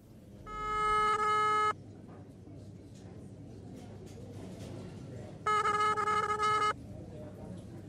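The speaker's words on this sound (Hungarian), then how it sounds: "Oda mentem a kávéházi telefonhoz, és felhívtam Barnabás számát" Dialing on a café telephone, heard as two separate bursts of rapid, bright multi-tone keypad beeps, each lasting about a second, over a steady low room hum.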